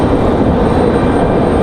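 An airliner departs Raleigh-Durham International for Charlotte on a windy day, a steady, loud jet roar with dense low rumble that holds unbroken through the short stretch.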